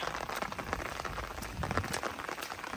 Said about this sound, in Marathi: पाऊस लय आहे